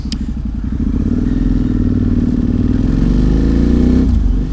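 Motorcycle with loud aftermarket exhaust pipes, close and steady, its deep rumbling engine revving and pulsing continuously for several seconds before easing off at the end.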